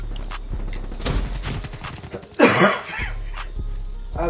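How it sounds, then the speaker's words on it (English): A single harsh cough bursts out from a player during a Black Ops 3 gaming session, loud and close, set against scattered in-game gunfire and clatter. "I have a smoker's cough and I've never even smoked."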